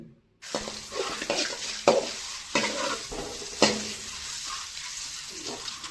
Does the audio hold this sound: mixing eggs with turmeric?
yes